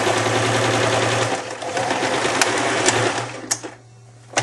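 A sewing machine stitches a fluffy neck warmer from a kit in a loud, steady mechanical whir that runs continuously, then stops abruptly near the end, leaving brief quiet and a small clunk.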